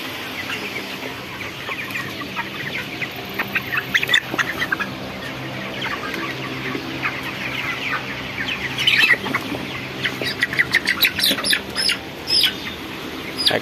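A shed of broiler chickens clucks and squawks continuously, a dense chorus of overlapping calls with sharper bursts of squawking standing out, no talking over it.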